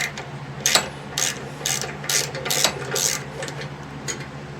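A ratchet with a T40 Torx bit turning a bolt on a Cub Cadet riding mower, several quick bursts of close, sharp clicking pawl ratcheting in an irregular rhythm.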